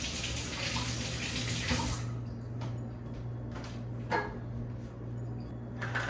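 Water pours steadily into a simmer pot of vanilla and cinnamon sticks, a continuous near splash that stops after about two seconds, followed by quiet handling noises.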